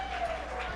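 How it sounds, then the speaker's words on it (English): Audience applause at an arts gala after an auction item sells, a short burst of steady clapping from a room of people, moderately distant. "Let's give her a big round of applause."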